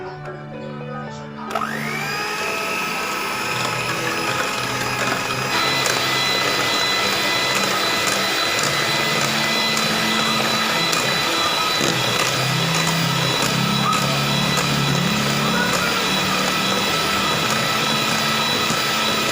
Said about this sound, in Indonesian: Kita kocok putih telurnya sampai putih kaku. Kita kocok dengan kecepatan tinggi.